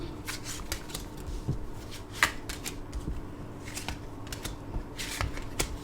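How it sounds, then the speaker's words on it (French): Tarot cards are shuffled, handled and laid out on a table for a reading, giving a close run of crisp flicking, riffling and sliding sounds in quick irregular bursts, with no talking. "on va mettre 4 cartes de ce tarot-là"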